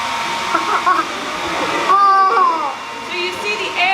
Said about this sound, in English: So everyone sees the hairdryer?